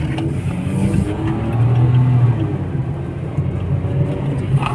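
Inside a pre-facelift Hyundai Grand i10 with a manual gearbox, the engine drones and rises steadily under hard acceleration after a shift, a continuous close cabin hum with no talking.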